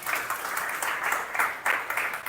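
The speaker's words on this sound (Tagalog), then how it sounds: "Palakpak para sa Panginoon." Church congregation applauding during a Sunday worship service, a steady wash of many hands clapping with slight swells, no voices on top.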